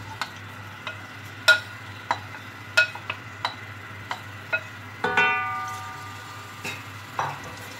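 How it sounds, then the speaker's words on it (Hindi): Onions frying in oil for Hyderabadi mutton biryani, a low background sizzle broken by a regular series of sharp spoon taps and clinks against the pot, near and distinct, with no voices. "अब मैं इसमें प्याज ब्राउन करूँगी।"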